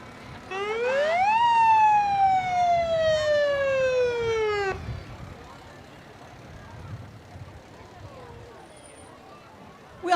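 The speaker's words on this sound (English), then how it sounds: "We also have the Brookings Ambulance coming through." An ambulance siren wails loudly and nearby in a university homecoming parade, rising then sweeping down in pitch before cutting off, followed by a fainter crowd murmur.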